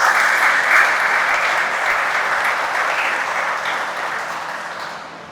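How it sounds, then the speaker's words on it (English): An audience at an annual meeting applauds the scholarship winners, a dense burst of clapping that starts loud and slowly fades over several seconds. "Let's give them all a round of applause."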